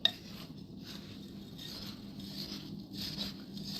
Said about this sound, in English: So you keep mixing until all those crumbs are coated